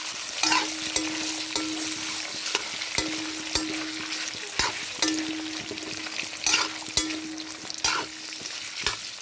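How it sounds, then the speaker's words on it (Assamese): Pork stirred and fried in oil in a pan for a pork and garlic curry, a continuous close sizzle broken by regular sharp scraping and clanking strokes of the spoon, loud and rhythmic, no voices. "মই প্ৰথমতে মাংসখিনি দালি লৈছোঁ এনেকৈ ভালদৰে মিলাই লওঁ তেলটো মিক্স হৈ যোৱাকৈ"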